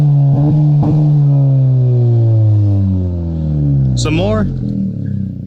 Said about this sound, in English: And there's a really nice exhaust on this car.